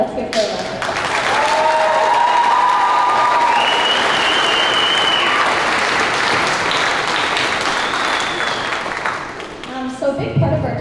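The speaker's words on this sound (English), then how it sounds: "Let's give her a round of applause." An audience applauds a pianist at a school opening program, steady sustained clapping that swells quickly and carries on loud for about ten seconds before tapering off.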